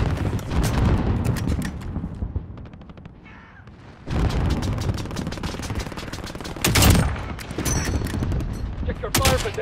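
Rapid automatic gunfire rattles through a Roblox rumble match on the Karst bridge map, with dense bursts, a short lull, then heavier volleys and booming shots, loud and close.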